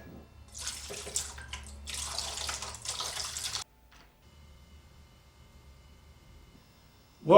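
Water pours into a glass in a steady, splashy stream for about three seconds, then stops, leaving a quiet hiss before a brief sharp noise at the end.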